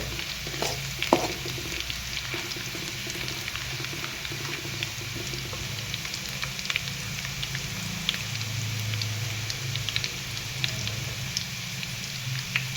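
Garlic fries in a few large spoonfuls of hot oil in a pan for a Diwali puffed-rice snack, giving a steady, close sizzle with light crackles and occasional stirring scrapes throughout, with no talking.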